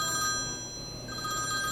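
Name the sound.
telephone bell ringing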